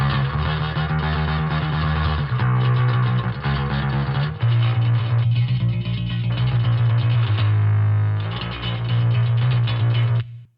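Two layered bass tones from an amp sim, one ambient chorus and one grindy mid-range metal drive, playing a steady loud line of sustained low notes that cuts off at the end.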